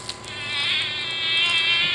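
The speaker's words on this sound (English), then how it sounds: "Mosquito." A toy mosquito gives a steady, loud, high-pitched insect whine that holds for the whole clip, close by, with no talk over it.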